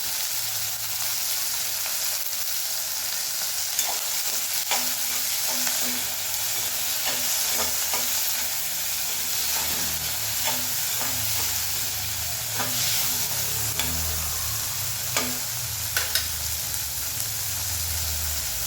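Tomatoes sautéing in a pan for poori masala, a continuous close sizzle and hiss with repeated scraping and tapping of a stirring spoon against the pan, steady throughout, no voices.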